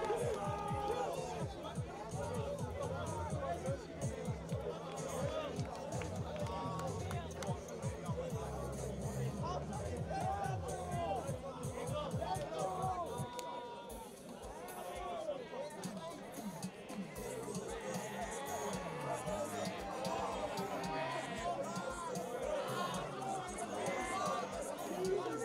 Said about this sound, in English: The Bishop's crowd is loving the atmosphere here today.